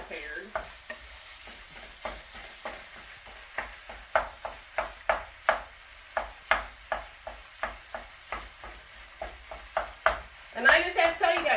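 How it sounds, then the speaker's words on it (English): Meat sauce for ravioli lasagna is worked in a pan with steady, evenly spaced scraping strokes over a soft sizzle, close and clear, ending with a louder burst of clatter. "then add the remainder to my meat. And then I have to cover and simmer."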